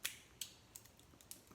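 Plastic packaging being pulled and peeled open, heard as quiet, close crackles and sharp snaps, about five brief bursts spaced irregularly against a near-silent background.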